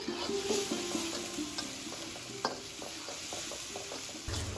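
Small prawns fry and are stirred in a pan for a banana flower curry, giving a steady close sizzle with scraping stir noises throughout.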